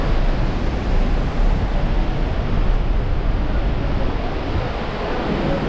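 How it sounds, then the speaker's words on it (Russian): A loud, constant rushing hiss of spraying water from a waterfall in Yosemite National Park, California, broadband and unbroken, with no voices. "Тут от водопада такие брызги идут, как будто в душ сходил."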